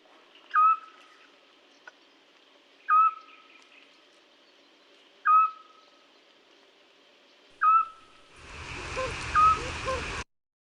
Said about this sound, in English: And this is the call of Eurasian scops owl.